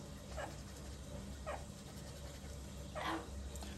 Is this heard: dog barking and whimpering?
yes